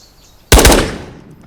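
Gunfire in the video game Ghosts of Tabor: a sudden loud, close burst of two or three rapid shots that rings out and decays over about a second.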